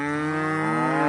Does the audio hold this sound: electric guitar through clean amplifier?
no